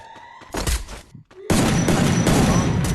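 Gunfire in the Free Fire mobile game: a few shots, a short lull, then a loud sustained burst of rapid firing close up.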